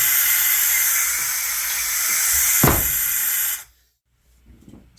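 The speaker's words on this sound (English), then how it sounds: "Let's turn on our compressed air." Compressed air hissing steadily through an end-of-arm tool fitted with suction cups, a loud continuous hiss with a short thump partway through, then cutting off abruptly into near silence with faint handling noise.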